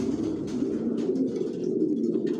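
Racer pigeons cooing in a loft, a low steady murmur of overlapping coos filling the whole stretch, close and continuous with no speech.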